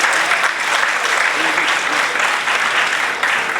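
A ceremony audience claps for a couple in dense, steady applause that fills the room and holds level throughout, with faint voices underneath.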